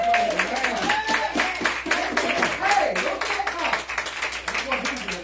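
Congregation clapping hands during a Pentecostal Sunday church service, steady rhythmic clapping from a crowd under ongoing voices and room noise, loud and continuous throughout.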